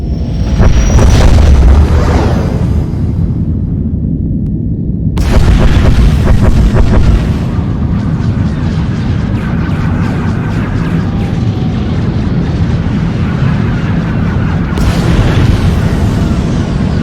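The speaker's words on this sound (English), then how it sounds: "Proceeding with bombardment, targeting infrastructure and industrial objectives only" Bombardment explosions in Star Wars The Old Republic, loud heavy booms layered over a constant roaring din, with sharp blasts breaking out at the start, partway through and near the end.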